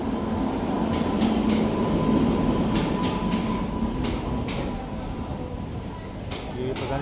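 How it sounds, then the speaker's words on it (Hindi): A normal passenger train rumbles steadily past at a station near Patna, heard from aboard a waiting Howrah Express, with loud wheel-and-carriage noise and occasional clanks. "कोई नॉर्मल पैसेंजर ट्रेन लग रही है"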